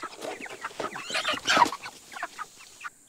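Five-week-old chickens clucking in a steady, busy chorus of short calls, close by and fairly loud, with no one talking.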